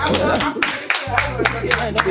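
An audience claps in a short burst of separate, fairly close hand claps, heard over a low steady hum and some voices at a talk-show style gathering.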